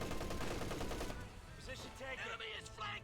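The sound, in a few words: 50 cal machine gun firing, video game Company of Heroes 2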